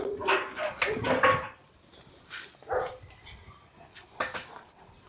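Several dogs bark and yip in quick bursts at close range while out on a walk, with a cluster of barks at the start, a lone yelp midway and a final pair near the end.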